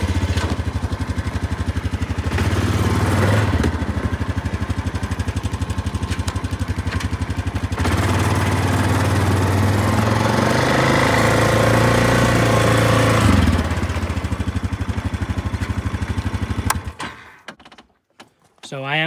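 A 2024 Yamaha Grizzly 700 SE ATV engine starts up and runs at a loud, steady idle with some revving, under intermittent talk, before cutting off near the end.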